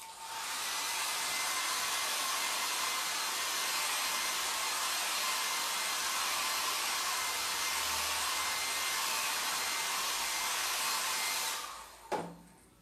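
A hair dryer runs steadily on a mixed media craft clock piece, a loud continuous whooshing roar that holds for about eleven seconds before switching off with a short clunk.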